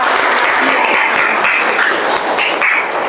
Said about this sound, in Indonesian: mari kita memberikan aplaus dulu untuk kita semua